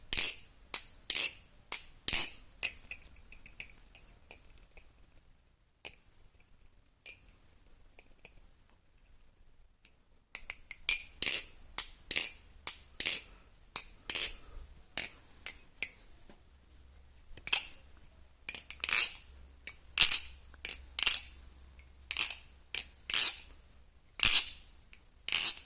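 A Kraken snare drum tested with a dry, unlubricated beater and tape added to stop ringing, giving sharp dry taps, first in quick clusters, then a pause, then a steady series of evenly spaced close hits.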